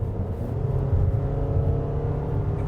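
Four-cylinder engine of a Toyota RAV4 under hard throttle, a steady droning hum from inside the cabin that holds at an even level throughout, with no voices over it.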